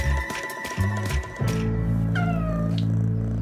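Kittens meow in several short, high cries near the listener, some overlapping and rising and falling, over a low steady background hum.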